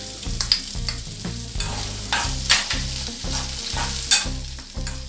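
Halved garlic cloves, broken dried red chillies and a pinch of tamarind softening in a pan for oats garlic dosa, with steady stirring scrapes and a low sizzle that swells in brief bursts, close and alone.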